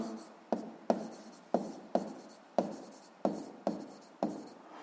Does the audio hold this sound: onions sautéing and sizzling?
no